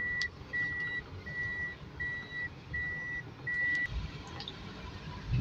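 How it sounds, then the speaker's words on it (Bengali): A second-hand Toyota car in reverse gear gives a regular series of about six evenly spaced electronic beeps, moderately loud over a low rumbling background, then stops. "এই যে দেখেন আমি রিভার্স দিলাম।"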